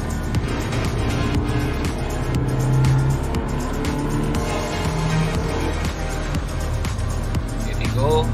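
A 2016 Daihatsu Xenia 1.3 accelerates in second gear, its engine revving steadily over road noise from inside the cabin, with some talk in the background.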